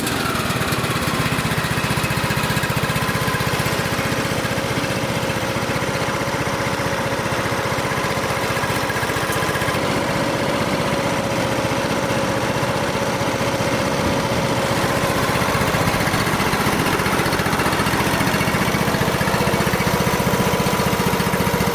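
A John Deere D120 lawn tractor engine runs steadily at a continuous, fairly loud idle-like drone throughout, with no voices.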